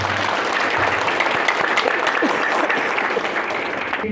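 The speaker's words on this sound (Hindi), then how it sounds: "मुझ में खोए, फिर मेरे लिए ताली मार दो जोर से" An audience at an IMC Crown event in Ayodhya Faizabad claps loudly and steadily, a dense continuous wash of applause from many hands for about four seconds.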